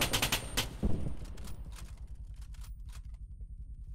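Gunfire in a World War I battle game: a burst of sharp shots at the start with one heavy blast near the first second, then a fainter, steady crackle of distant fire trailing away.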